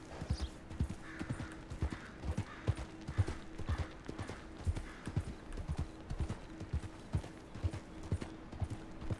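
A horse in the Red Dead Redemption 2 video game clip-clops along at a steady, close, even gait for the whole stretch, with a continuous low background underneath and no talking.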